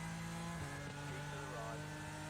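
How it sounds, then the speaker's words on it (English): Lamborghini GT3 race car engine in the sim racing game iRacing, a loud steady high-pitched drone that shifts pitch mid-way as revs change, continuous and close throughout. "God, that Lamborghini sounds good."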